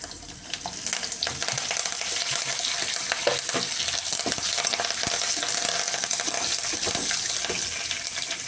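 Cumin seeds, dried red chillies and curry leaves crackle in hot oil for a tempering, with garlic and mustard seeds already in the pan. The sizzle is dense and continuous, close up, with small spits and pops throughout.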